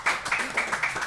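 A studio crew clapping during a podcast, a short burst of quick rhythmic hand claps repeating about every quarter second, fairly close and moderately loud.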